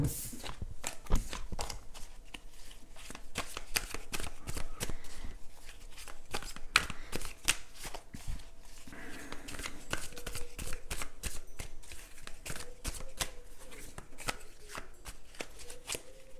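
Tarot cards are shuffled by hand in a rapid run of crisp riffles and snaps that goes on continuously, close up and fairly quiet.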